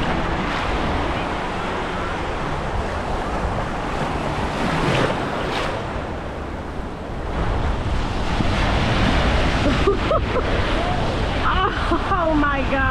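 Green ocean surf breaking and washing in, a steady loud roar mixed with heavy wind buffeting the microphone, with someone talking over it.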